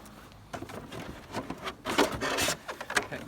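A Starlink RV kit is unboxed up close: cardboard and packaging scrape, rustle and thump in short irregular bursts, with the loudest handling noises toward the middle.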